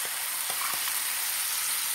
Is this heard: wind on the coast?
no